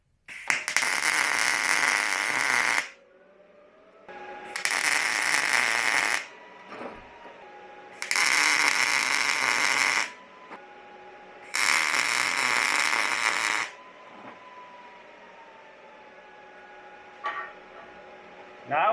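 A welder tacks the corners of steel tubing, with four loud, close bursts of harsh crackling arc sizzle, each two to three seconds long and separated by quiet gaps that carry a faint hum.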